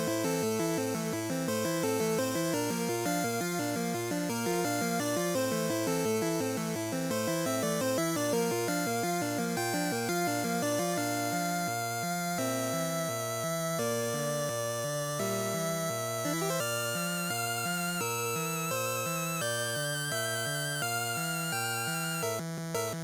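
The original Pokémon Red/Blue/Yellow trainer battle music: fast, repetitive chiptune with bright synth arpeggios and a pulsing bass line, loud and continuous without pause.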